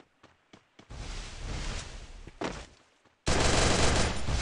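Gunfire from a double barrel shotgun in the Garena Free Fire video game arrives as a few sharp clicks, then a dense burst of shots, a short pause, and another loud, sustained volley close up.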